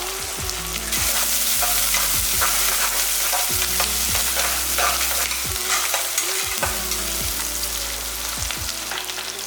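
Onions, green chillies and curry leaves fry with a loud, steady sizzle in a pan for tomato rice, while a spoon scrapes and stirs at a regular rhythm close by; no one speaks.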